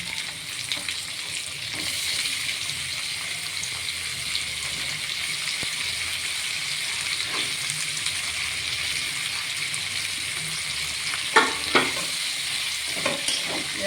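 Chopped onions sizzle steadily in hot oil for a chicken curry, a close, continuous frying hiss with a few sharp spatula scrapes and clinks near the end.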